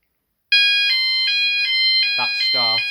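An E.M.S. FirePoint 5004 fire alarm sounder goes off, sounding a loud, steady pulsing high electronic tone from close by. A voice talks over it near the end.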